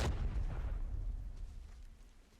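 A grenade goes off in the shooter game Arena Breakout, a single heavy, rumbling boom at the very start that fades away over the next two seconds, with no voices over it.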